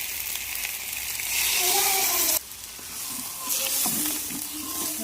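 Water poured into a hot frying pan of cauliflower and spices hits with a loud, close burst of sizzling, then a sharp drop and a renewed steady hiss with light bubbling and stirring.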